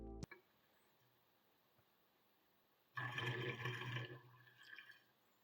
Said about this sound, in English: You can hear it bubbling and see the vapors start to form when I pour it in.